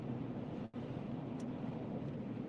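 Steady wind roars and rumbles into the microphone, a constant low buffeting noise with one brief dip.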